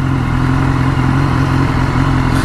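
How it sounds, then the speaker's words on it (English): BMW S1000R motorcycle riding with a steady, loud engine drone and exhaust note, low throbbing pulses continuing without a break as engine braking holds the revs, close and constant throughout. "Pipe sounds lovely, and there's a fair amount of engine braking."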